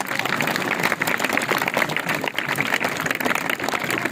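Audience clapping at a school magic show in Lodhran, a dense, steady patter of many hands that fills the space at a fairly even level and holds for several seconds without voices standing out.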